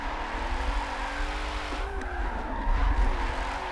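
Tires squeal steadily as a car drifts through a sweeping corner in a Forza racing game, a continuous close screech over a droning engine.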